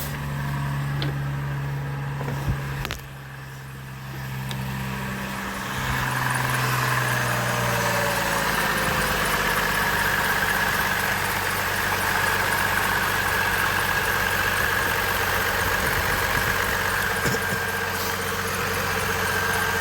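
A 2004 Chevrolet Trailblazer engine idles steadily after a tune-up and oil change, run without an intake piece fitted, giving a continuous close, even hum with a brief dip early on and no talk.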